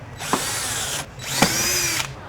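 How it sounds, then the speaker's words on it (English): A power drill fitted with an 11mm bit cuts holes through the front splitter of a Hyundai Kona N. It runs in two loud, steady bursts of about a second each, with a brief pause between them and nothing else heard. "drill out those 3 additional holes with the 11mm drill bit"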